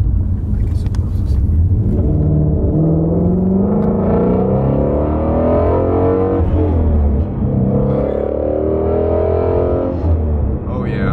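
Steady low engine and exhaust rumble from a car on a test drive, running continuously at a moderate level beneath people talking throughout.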